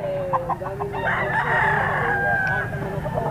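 A rooster crows once, a loud, close drawn-out call, among the bustle of a pet market where fowl are sold, with faint background chatter and other bird sounds around it.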